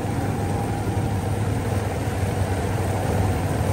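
A vehicle engine labors as it pushes through deep flood water in Macabebe, Pampanga, a constant low rumbling drone filling the short stretch without a break.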